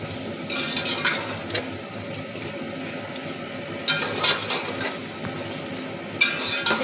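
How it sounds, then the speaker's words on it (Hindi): Ground coriander and red chilli spices roast in a pan for aloo matar pulao, a low continuous frying hiss under repeated bursts of spoon scraping and stirring against the metal pan. "अब ये सब हम इसमें ऐड कर देंगे और इसकी अच्छी तरह से भुनाई करेंगे"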